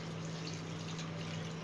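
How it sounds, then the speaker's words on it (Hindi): A litre of water runs steadily into a cooking vessel holding tomatoes for a Peshawari namkeen karahi, a soft continuous pouring hiss with a low steady hum underneath, fairly quiet. "1 लीटर पानी ऐड कर देंगे।"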